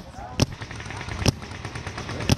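Gunfire in a video game shooter: bursts of rapid automatic shots with three sharp, louder reports standing out over constant crackling fire and background noise.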